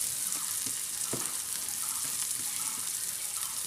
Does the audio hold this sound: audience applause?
no